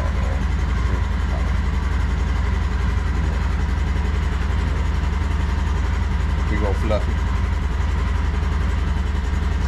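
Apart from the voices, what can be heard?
vehicle engine idling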